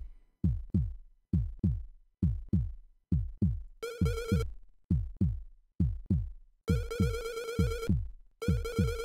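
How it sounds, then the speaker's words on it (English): A looping synthetic heartbeat from the horror video game Dead of the Brain plays as a steady double-thump pulse of deep booming beats. Bright ringing electronic tones repeatedly overlay it, and no voices are heard. "this fucking heartbeat sound."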